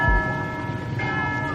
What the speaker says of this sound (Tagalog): maagang tumunog ang mga kampana at nagdagsaan sa mga simbahan ang mga Boholano